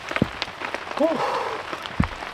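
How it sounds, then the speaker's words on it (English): Heavy rain patters steadily on a Naturehike hot tent, with a few sharper drops standing out, while a voice exhales briefly. "the rain is getting pretty heavy."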